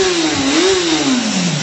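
Suzuki motorcycle engine with a standard exhaust can, likely a GSX-R 750 or Bandit 650, revving steadily and loudly nearby, its pitch rising then easing back over a short burst.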